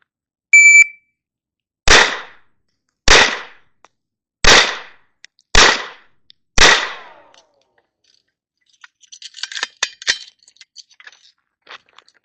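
Six pistol shots at a Steel Challenge range, loud sharp cracks in a steady, evenly spaced string, followed by faint clinks and rattles of brass and gear.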